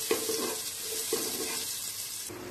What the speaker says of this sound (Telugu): ఇందాక నానబెట్టుకున్న జీడిపప్పుని వేసుకుని వేయించుకోవాలి